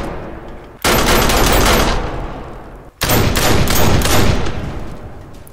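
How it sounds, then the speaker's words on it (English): Sustained rapid automatic gunfire from a squad of soldiers in the People Playground sandbox game, two long loud continuous bursts with a brief gap between them, dense and relentless with no talking. "Open fire, boys!"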